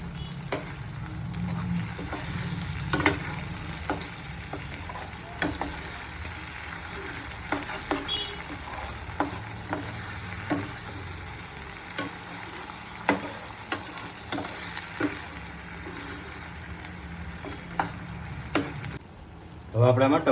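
Onion paste cooks in a pan for dhaba-style rajma masala, a steady close sizzle broken by frequent sharp scrapes and taps of stirring, with no voices.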